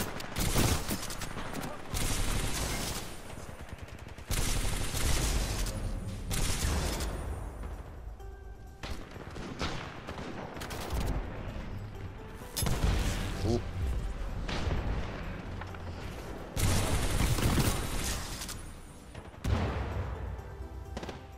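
Titanfall 2 gunfire, loud bursts of rapid weapon fire that come in repeated clusters with brief gaps, mixed with booms and impacts, and people talking over it.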